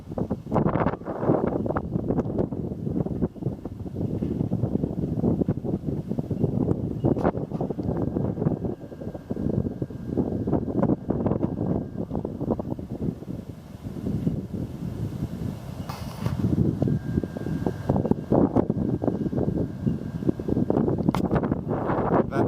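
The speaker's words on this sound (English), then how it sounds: "I'll be drowned out by the wind up here" Strong gusty wind buffets the microphone continuously at a hilltop trig station, a loud rumbling roar that rises and falls without a break.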